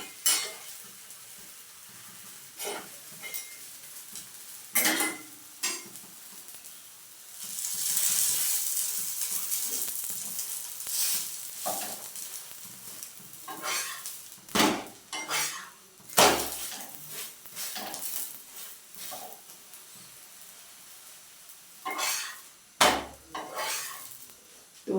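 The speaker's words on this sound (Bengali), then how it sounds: "এখন আমি একটা একটা করে পরেরগুলো ভেজে নেব।" Snacks frying in a pan, with faint sizzle under repeated clinks and scrapes of a utensil against cookware, loud sharp knocks at intervals and no talking.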